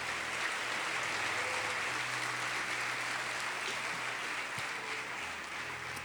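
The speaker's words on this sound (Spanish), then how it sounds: "Dale un fuerte aplauso al Señor si lo crees." A church congregation applauds in a steady, sustained wash of many hands clapping, heard from within the room at moderate loudness for the whole stretch.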